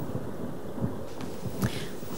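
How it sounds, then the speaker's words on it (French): Thunder rumbles during a storm, a low rolling boom with soft cracks, steady rain and wind noise beneath. "J'ai très peur du tonnerre et des éclairs"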